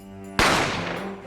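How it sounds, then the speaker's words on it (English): A single sharp gunshot rings out in The Great Ace Attorney, a sudden loud bang over a quiet musical backdrop, its blast decaying slowly over the following second. "the sound of the gunshot"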